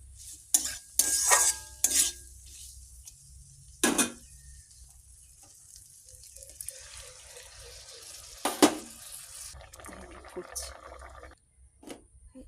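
A spoon stirs dal dhokla and fried bora in a home-kitchen pan, giving soft scraping and sloshing, with a few sharp clatters and a brief gush of water added near the end; a faint sizzle runs underneath.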